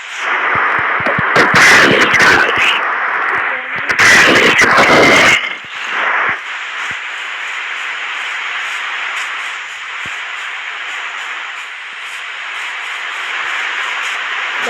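Creeper explosion in Minecraft, two loud crackling blasts in quick succession, followed by a long fading hiss of static and debris.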